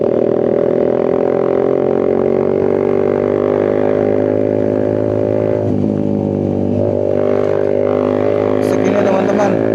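A 1000 cc motorcycle engine drones loud and close while touring on a road, holding a steady pitch with small throttle shifts and a slight rise near the end, with faint talk beneath.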